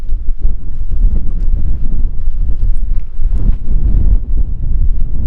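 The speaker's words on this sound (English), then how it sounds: "it's crazy windy here and you're not going to be able to hear me" Strong wind in the Nevada desert near the Black Rock Desert playa batters the microphone with loud, low, continuous rumbling gusts close up, with no talk.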